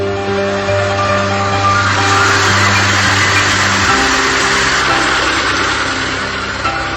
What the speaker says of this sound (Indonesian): kita lakukan dulu penyedotan air dengan mesin sehingga memudahkan pengambilan udang